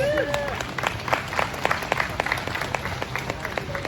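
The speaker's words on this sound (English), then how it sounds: "Let's get a round of applause." Audience applause at a RetroFest gathering in Arkansas, a moderate, steady clapping from a modest crowd. Voices and a little chatter mix in underneath.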